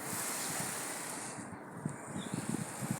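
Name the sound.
wind blowing against the door outside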